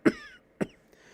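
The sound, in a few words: cough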